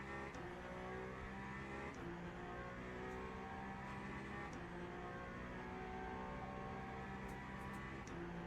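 A Ferrari race car at Le Mans, its engine a continuous loud drone with steady pitch and small shifts, sounding close and sustained throughout, with no talking.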